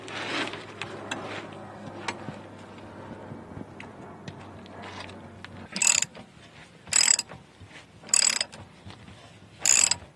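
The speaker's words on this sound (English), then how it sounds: "we've loosened these two nuts" A ratchet loosening nuts on a Porsche 928S front shock assembly, first quiet mechanical clicking, then four loud bursts of rapid ratcheting spaced about a second apart, close and alone.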